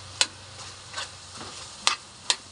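Chicken adobo simmering in soy sauce with potatoes being added, a soft steady sizzle broken by a few sharp clinks of a utensil against the pan, close and alone.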